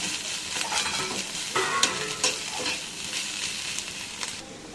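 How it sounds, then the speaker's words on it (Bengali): Soybeans frying in a wok for a home-cooked dish give a steady close sizzle with brief stirring scrapes and clatter, and no voices over them. "দেখো সোয়াবিনগুলো ভাজতে দিলাম।"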